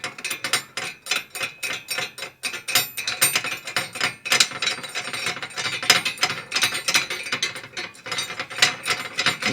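A nut is tightened with a ratchet while a snow plow is mounted on a Coleman 400 UTV. Rapid, steady metallic clicking and clanking continues throughout, close up, with no talking.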